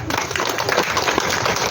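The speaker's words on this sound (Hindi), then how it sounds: "सभी लोग जोरदार ताली बजाइए पीछे से भी" An audience claps loudly and continuously at a women's self-help group meeting in a village hall, a dense, steady patter of many hands with a few voices mixed in.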